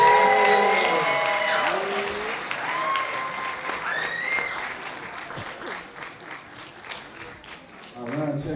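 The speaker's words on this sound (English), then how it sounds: "Let's give him one more big round of applause." An audience at a student awards winter recital claps and cheers for a student performer, with whoops and excited voices at first, settling into steadier applause that gradually thins out.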